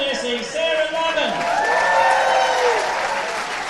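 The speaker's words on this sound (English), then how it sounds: "listen to the roar this woman is about to get" Spectators at a national senior outdoor track and field championships applaud and cheer an athlete being introduced at the start. The loud, steady roar of clapping and whoops runs under an announcer's voice throughout.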